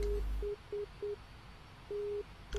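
A navigation radio station ident tone plays in the X-Plane flight simulator cockpit of a DC-9: short steady beeps in an even rhythm, followed by a longer one, clear and moderately loud over faint background hum.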